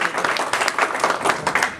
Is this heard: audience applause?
yes